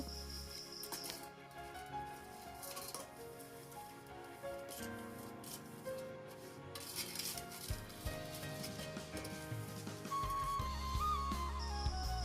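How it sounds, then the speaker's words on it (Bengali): Dishes and utensils being scrubbed and rinsed at an outdoor tap, with scattered clinks and scrapes of metal pots and cutlery under running water, steady and close, with a louder watery stretch near the end. "কলের পাড়ে বাসন মাজতে তো দেখো কাল অনেকগুলো বাসন হয়েছে"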